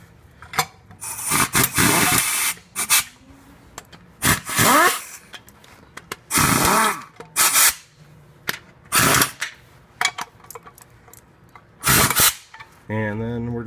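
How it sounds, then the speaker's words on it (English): Wrench clicking and rasping as bolts are tightened on a 2005 Honda Pilot's stiff gear shifter, in repeated close bursts of ratcheting with short pauses between them, a brief voice near the end. "So now I'm going to turn the wrench all the way down."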